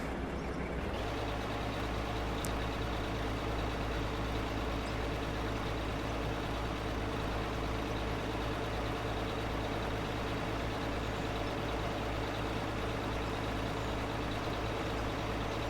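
A truck engine idles steadily beside a loading hopper behind a general store in the arctic winter setting of Out of Ore, a low continuous drone with no talk over it.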